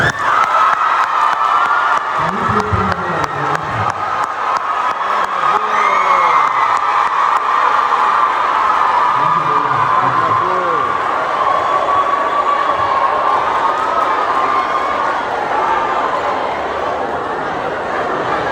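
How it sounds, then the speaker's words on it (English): Audience at a Nurses Week debate cheering and whooping for the winning team, a loud continuous crowd roar with shouts and voices rising over it throughout. "Let us clap for them again"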